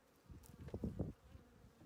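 Honey bees buzzing inside a jar during a varroa mite test, a faint, uneven hum that swells briefly in the middle and then settles.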